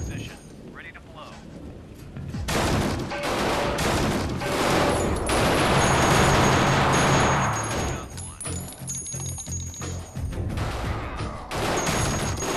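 In the Door Kickers tactical game, a breaching charge blows and bursts of gunfire follow, loud dense cracks and booms rolling through the middle of the clip before fading into scattered shots.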